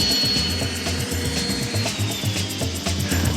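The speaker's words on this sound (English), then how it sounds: "So I'm going to core drill a couple of holes in the side of her house underneath her patio." A core drill boring holes into the side of a house beneath a patio, a loud continuous grinding drone with a rhythmic pulsing low rumble throughout.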